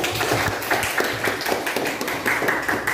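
Classroom of students clapping hands together in a quick, steady rhythmic pattern, close and fairly loud, with no talking over it.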